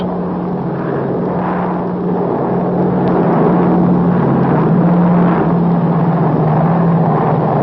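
An unmodified C-47 transport plane drones overhead while laying telephone wire, its steady propeller engine roar loud and continuous throughout, swelling slightly as it passes.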